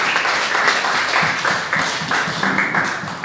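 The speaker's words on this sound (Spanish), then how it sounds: "Den una alabanza de aplauso al Señor en esta preciosa noche" A church congregation claps together in a steady rhythmic beat, about two claps per second, during an evening worship service, loud and close with no talking heard.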